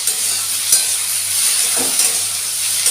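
Potatoes and tomatoes cooking down in oil in a pan with a steady, even sizzle and a few soft stirring scrapes, up close and with no one talking.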